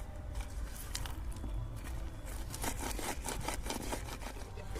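Boiled nuts rubbed between the hands to loosen their skins give a soft, continuous rustling friction that comes in uneven bursts, close and quiet, with no talking.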